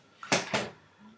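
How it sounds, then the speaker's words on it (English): A door shutting indoors, heard as two sharp broadband knocks close together, near and fairly loud, with no talk over it. "Can you close the door?"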